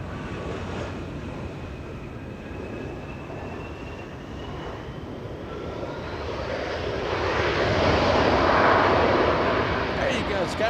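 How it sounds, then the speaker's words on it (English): A SkyWest airliner's jet engines roar on a runway at Los Angeles International Airport, a broad rumble with a faint rising whine that swells louder toward the end, heard from a distance. "SkyWest getting a little loud at the end."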